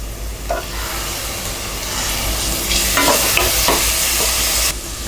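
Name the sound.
tomatoes sautéing with fried onions in oil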